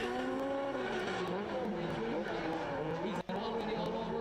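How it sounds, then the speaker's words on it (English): Drift cars at an Irish Drift Series pro battle round rolling up to the line for the final four, engines droning steadily with tyre noise while a commentator talks over them. "As we hear the cars making their way up for the final 4"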